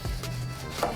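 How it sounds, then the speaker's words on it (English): A knife slices an orange on a cutting board with a couple of quick, dull cuts, close and fairly quiet. "slice this up a nice piece of orange"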